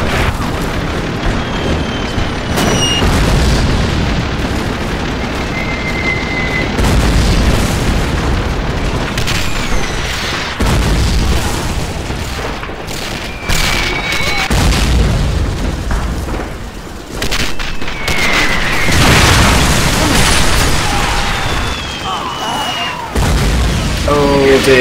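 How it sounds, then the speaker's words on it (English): Artillery barrage explosions in a World War II strategy game, Soviet shells landing among tanks in a town centre: repeated loud booms and bursts in dense succession over continuous battle noise, with a voice talking throughout. "Soviet barrages are starting to home in on my tanks here in the centre of the town."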